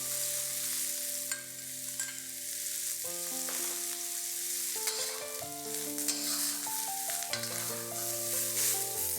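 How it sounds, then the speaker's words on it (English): Pork belly, cabbage and mushrooms frying together in a pan make a steady sizzle and occasional stirring scrapes beneath prominent background music. "Fry these ingredients for 3 to 4 minutes till the ingredients are quite dry."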